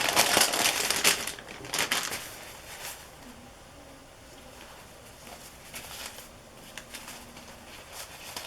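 Mulberry paper is handled and crinkled during a craft stamping session on cork, giving soft dry rustles and crackles that are strongest in the first two seconds and then settle into quieter intermittent crinkling, with no talk.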